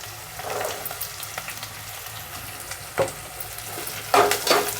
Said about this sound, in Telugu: నూనెలో 1 నిమిషం వేయించుకున్నాము.